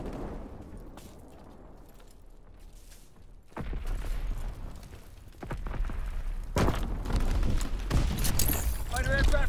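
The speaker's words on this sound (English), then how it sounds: "Enemy bomb incoming! Get to cover!" Bomb blasts and battlefield gunfire in Call of Duty: WWII multiplayer, with heavy booming impacts landing at intervals over a rumbling background that grows denser and louder toward the end.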